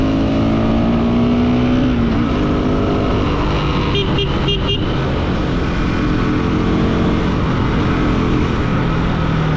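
A motorbike riding along just after an engine oil change, its engine running steadily and close throughout with a brief cluster of clicking or tooting bursts midway.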